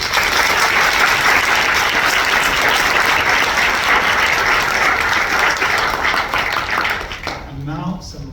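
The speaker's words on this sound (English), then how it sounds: "Please join me for a round of applause for our student volunteers." A large audience at a university nursing pledging ceremony breaks into a long, loud round of applause for student volunteers, thick continuous clapping that fades away near the end as a voice resumes.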